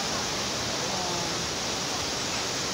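Pulang Bato waterfall in Valencia, Negros Oriental roars as a dense, constant broadband rush of falling water, loud and unbroken throughout, with no clear speech over it.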